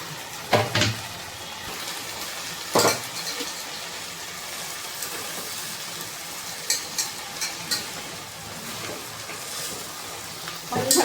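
Amaranth leaves sizzling in a pan with ginger garlic paste, a continuous frying hiss broken by sharp scraping clatters as the mix is stirred every few seconds, with no talking.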